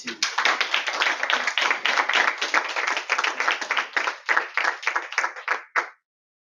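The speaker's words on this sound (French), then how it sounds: "J'ai besoin d'applaudissements." A small Toastmasters club audience applauds at a joint session in a hall, brisk close hand claps that thin into a few separate claps before stopping abruptly.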